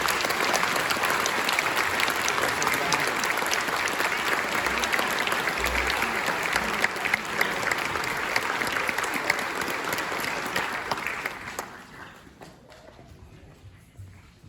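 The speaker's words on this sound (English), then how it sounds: "I just want to give her a big recognition and round of applause and thanks for all your help this year, Katie." Sustained audience applause fills a school band spring concert hall for sixth-grade and high school players, dense and steady for about eleven seconds before tapering off into scattered claps and quiet.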